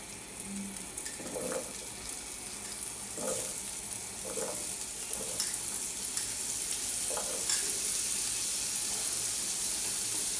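Oil heats in a kadai for a vegetable and prawn curry, giving a steady, faint sizzling hiss throughout, broken by a few soft stirring clatters at irregular intervals.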